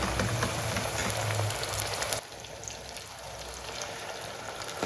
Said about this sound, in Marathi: आता आपण तो मसाला तेलामध्ये फ्राय करूयात